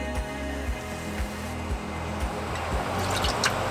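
Water pours and drips into a Dutch oven with a steady liquid splashing, punctuated by soft regular knocks, close and fairly quiet.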